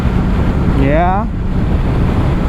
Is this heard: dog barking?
no